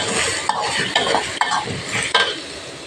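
Zucchini and egg stir-frying in a pan, a steady close sizzle with a utensil scraping and stirring in strokes about every half second, alone without talk.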